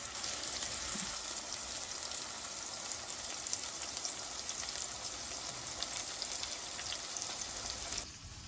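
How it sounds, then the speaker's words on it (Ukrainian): Steady, dense sizzling of zucchini frying in a hot pan, continuous and close, dropping to a quieter hiss near the end; no voices. "Кабачки підрум'янюємо з однієї сторони, тоді з іншої."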